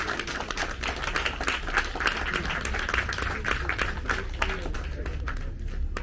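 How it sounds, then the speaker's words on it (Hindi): Applause from a conference audience after a guest speaker is invited to the stage, a steady wash of clapping lasting several seconds at moderate level, with some voices mixed in underneath. "एक जोरदार तालियां हो जाए सर के लिए"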